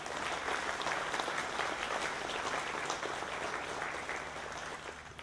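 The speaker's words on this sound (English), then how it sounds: "So I want to give a round of applause for all of the families for the support and the chance that they took on it." Sustained audience applause at a workforce center graduation ceremony, honoring graduates' families; dense, steady clapping from a large crowd that holds throughout, fading slightly at the end.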